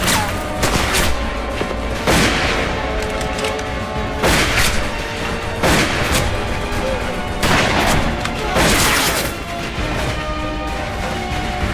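Heavy gunfire rings out in a Gallipoli battle film, with repeated loud volleys of rifle and machine-gun shots crackling in bursts every couple of seconds over a constant battlefield roar.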